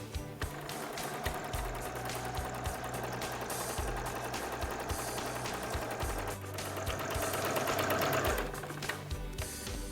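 A sewing machine stitches elastic onto a lace bridal garter, its needle chattering in a fast steady rhythm close by, pausing briefly now and then before running on.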